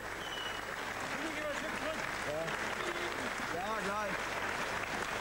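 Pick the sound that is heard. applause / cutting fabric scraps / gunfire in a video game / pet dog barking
applause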